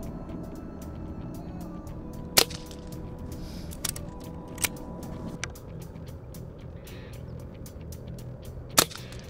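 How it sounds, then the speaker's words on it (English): A Brocock Concept XR airgun with a 10-shot magazine fires at an outdoor target, sharp isolated cracks spaced seconds apart, several fainter clicks between them, over a quiet background. "First shot, Brocock Concept XR. 10-shot mag, by the way, 10 rounds."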